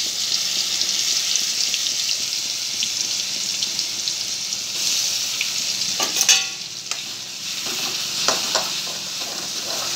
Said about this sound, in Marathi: छानपैकी भाजून घ्यायचं आता।